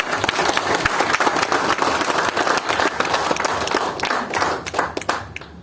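Dense, steady audience applause fills a seminar hall at a Profit Hub investment program in Digha, many hands clapping at once without pause, close and loud with sharper individual claps poking through near the end.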